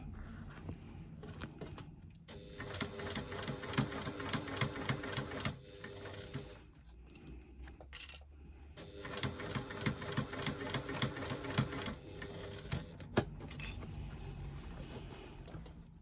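Sewing machine stitching a bag, running in long fast whirring bursts broken by brief pauses and a couple of sharp clicks, close and clear with no talking.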